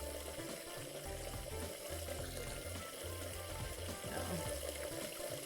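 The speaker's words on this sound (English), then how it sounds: "Wish the water wasn't so loud." Steady rushing water pours from a kitchen faucet in the video game Catlateral Damage: Remeowstered, a continuous close hiss that fills the whole stretch while a voice briefly speaks over it.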